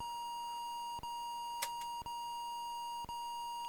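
Repeated electronic beeps from an old computer recording on tape, a steady tone broken by short evenly spaced pulses about a second apart, faint and alone.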